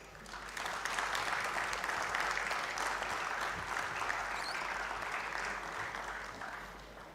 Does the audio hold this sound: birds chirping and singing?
no